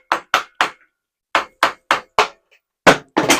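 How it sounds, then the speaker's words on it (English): Roughly nine sharp metallic taps in short clusters as a ring is knocked off a Woodcraft Japanese hoop setting tool, close and crisp with brief silences between the strikes. "going to try and tap that ring off"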